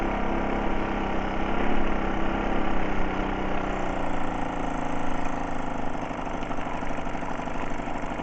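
A Solex 5000 moped engine idling, a steady buzzing putter heard close up, even and unbroken throughout with no revving.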